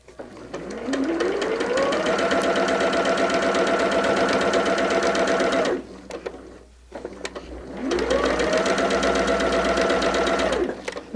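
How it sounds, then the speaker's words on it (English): Sewing machine stitching a quilt block in two long runs. Each run spins up quickly into a loud, steady, rapid mechanical whir, then stops, with a brief pause of quiet handling between runs. "We did get a stitch, and we can just stitch all 3 of these right after the other."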